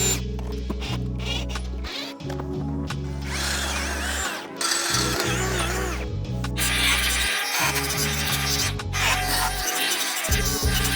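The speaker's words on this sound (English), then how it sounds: "I'm just gonna drill through that hole if I can" A power drill bores through a welded seat mount, whining in several loud close bursts that start and stop with brief pauses between them, with no talking.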